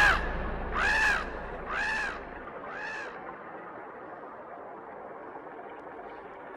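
A cartoon crow caws three or four times in quick succession, loud and close, then fades away into a soft, steady background hiss.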